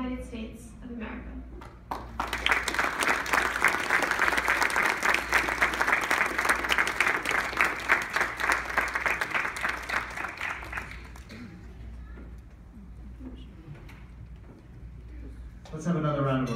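An audience at a fundraiser for Syrian orphans bursts into loud, sustained applause after a short pause, clapping thickly for about nine seconds before fading to a murmur, with speech before and after it.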